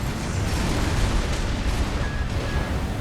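Vertical missiles exploding in Armored Core 6: Fires of Rubicon, a dense, continuous roar of booming blasts with deep low rumble that stays loud and steady throughout.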